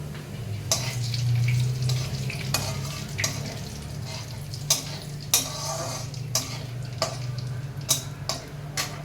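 Cumin seeds with dried red chilli and bay leaf hit hot oil in a pan on a gas stove, giving a steady soft sizzle under a low kitchen hum, broken by sharp clinks of a utensil stirring the pan at irregular intervals.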